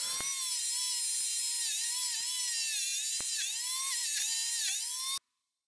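A rotary wire brush spins steadily against an old steel tool, stripping phosphate film and surface rust with a loud, high whine that holds for about five seconds, dipping slightly under load, then stops abruptly.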